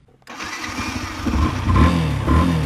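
A motorcycle engine on a solo ride through Northeast India toward Mizoram catches and runs loud and close, its mid-pitched drone rising and swelling as the bike revs and pulls away.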